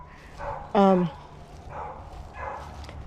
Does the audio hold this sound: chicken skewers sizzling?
no